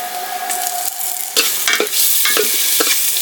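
Bay leaf and ginger spluttering in hot oil with a spoon of ghee, a steady close sizzle broken by several sharp crackling bursts and scraping stirs, with no talking.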